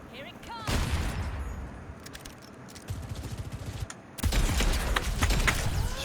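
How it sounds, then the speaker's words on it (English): Rapid rifle shots from Ashe in the game Overwatch crackle in dense bursts amid other battle noise, loud and close, with a voice talking over part of the fire. "Just popping shots."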